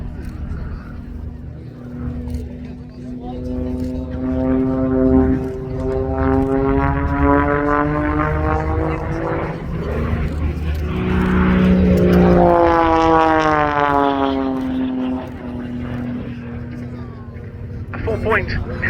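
An Extra 330 aerobatic plane hovering nose-high at the RAF Cosford Airshow 2025, its propeller engine droning loud and near with rising and falling pitch as it maneuvers, while a commentator talks over a public address system.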